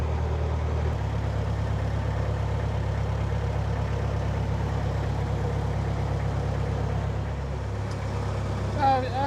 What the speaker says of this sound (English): Hence the higher revs than usual on a pull away.